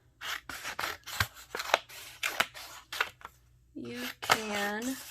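Scissors snip paper into strips and pieces in a run of sharp, separate cuts close by, then a voice talks for the last second or so.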